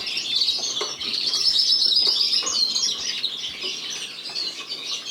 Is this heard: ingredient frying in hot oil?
no